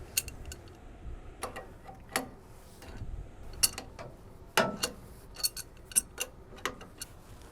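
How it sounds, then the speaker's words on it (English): An adjustable wrench unscrews a Sonic Start probe from a pool pump motor adapter, producing scattered metallic ticks, clicks and light taps at irregular intervals, close and fairly quiet, with no talking. "you will use your adjustable wrench to remove the Sonic Start probe from the motor"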